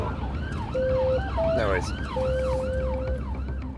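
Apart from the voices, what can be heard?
ambulance siren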